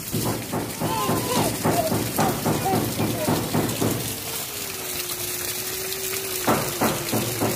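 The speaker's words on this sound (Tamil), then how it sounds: "டேங்க் ஃபுல் ஆகி மேல இருந்து தண்ணி வருது" Water pouring steadily from an overflowing home water tank pipe like a small waterfall, a continuous rushing splash beneath talking voices throughout.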